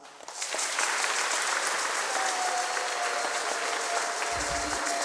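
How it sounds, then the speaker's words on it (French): A congregation applauds at a baptism during Sunday Mass in church: steady, dense clapping swells in after a moment and holds loud and even throughout, with a faint sustained tone beneath it. "Alors on peut acclamer Eva."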